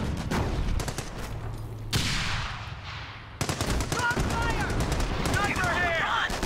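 Gunfire from the Company of Heroes strategy game, a dense mix of rifle and machine-gun bursts with distant booms, running continuously under mixed battlefield noise and chatter.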